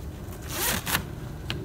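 A trim bag being zipped closed, one quick close zipper pull with a couple of bright rasping strokes, near and alone.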